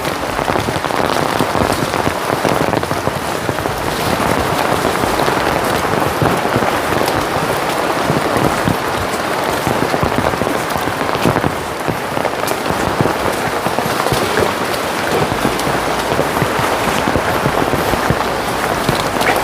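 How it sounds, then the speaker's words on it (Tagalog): Heavy rain during a typhoon, falling in bursts and pouring down steadily on a surface, a dense, loud hiss of drops that swells slightly in places, with no voices. "pabusod-bugsod ang ulan"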